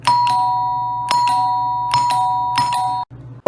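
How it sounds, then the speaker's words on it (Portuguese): A common Brazilian doorbell of the 1970s and 80s rings four times in a steady electric ding pattern with sustained bell tones, loud and close, with no voices. "essa era a campainha mais comum nas décadas de 70 e 80"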